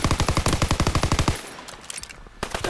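Mounted machine gun in Call of Duty WWII fires a loud, rapid burst of about two dozen evenly spaced shots, then cuts off into quieter game ambience with scattered distant noises.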